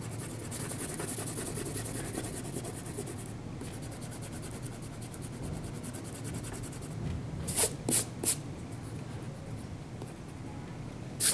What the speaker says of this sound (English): Now I'm going to connect my guidelines on this side. And then I can erase out everything else.